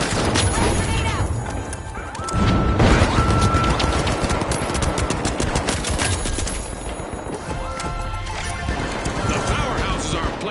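Dense, continuous video-game gunfire and frag grenade blasts crackle through a fast match, with voices calling out over the steady barrage.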